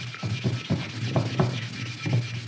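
Pit-fired pottery is polished by hand, giving a close, soft rubbing scrape in quick uneven strokes with a faint underlying hum.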